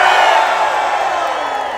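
A rally crowd outside the Capitol in Washington cheers and whoops loudly in one sustained burst of many voices, fairly close and steady throughout.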